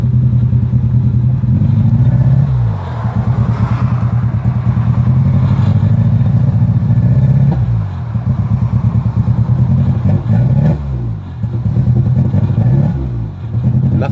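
An orange Geo Metro with a rough-running engine revs up, then sputters, stalls and drops back down, repeating several times with loud, uneven chugging and clatter close by.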